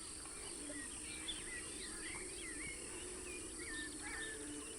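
A predatory bird calls from a distance with a run of warbling, rising and falling notes over a steady insect drone in the wild.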